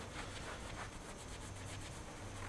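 Polishing compound rubbed by hand along a Stratocaster guitar neck, including around its edges, gives a steady, close, soft rubbing and swishing texture with repeated strokes and no talk.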